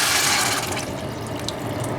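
About one and a half cups of water pour steadily over cauliflower in a cooking pot, a continuous close splashing rush.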